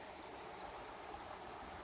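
Lovell's Creek in the Blue Ridge foothills flowing steadily, a dense, even rush of water close by with no breaks or voices.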